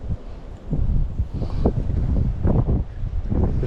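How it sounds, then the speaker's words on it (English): Wind buffets the microphone outdoors during spring bass fishing, a loud, continuous low rumble with gusty swells throughout, with no talk over it. "The wind caught it."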